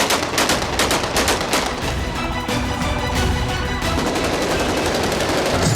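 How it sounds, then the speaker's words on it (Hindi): Rapid bursts of AK-47 rifle fire crack out in dense, overlapping volleys, loud and sustained, like automatic weapons shooting outdoors in city streets. "सड़कों पर खुलेआम AK-47 से गोलियां दागकर मना रहे हैं"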